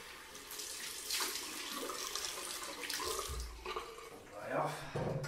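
Tap water runs steadily into a sink while someone rinses off after a shave, a close, continuous splashing with small shifts in flow.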